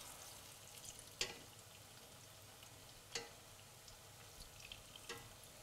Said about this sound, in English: We're frying the plantain, trying to get them golden brown.